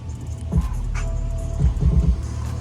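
A truck idles with a low, steady exhaust rumble, heard close and fairly loud under wind noise, with a couple of brief swells in engine tone partway through.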